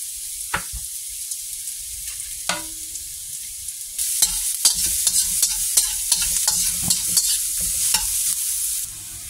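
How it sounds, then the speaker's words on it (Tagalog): Garlic and beef tongue sauté in a hot pan with a steady sizzle. Sharp spatula scrapes and clacks come through, and the frying grows louder about halfway through as stirring continues, with no talk. "Gisa muna natin yung bawang."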